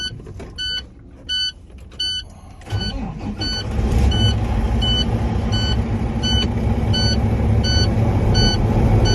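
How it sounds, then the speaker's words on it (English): A truck engine starts and settles into a steady, loud idle while air pressure builds for a brake check, preceded by several short repeated electronic beeps from the dashboard. "I will start the engine and build a maximum air pressure in my tanks to check all my brakes."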